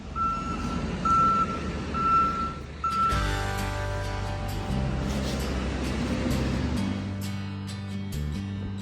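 A steady reversing alarm beeps at an even pace over the low, continuous drone of an excavator's diesel engine, which swells louder partway through while the beeping fades under it; no one speaks.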